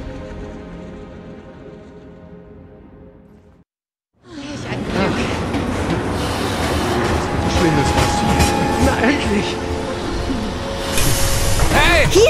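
Train rolling along rails in Final Fantasy VII Remake, a loud, steady rumble with rhythmic clatter that starts abruptly after a brief silence, with other game audio layered over it.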